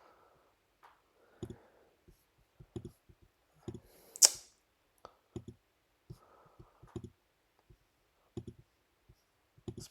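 Sharp computer mouse clicks, single and in quick pairs, scattered at an irregular pace through a quiet room, with one brief louder click-like burst partway through.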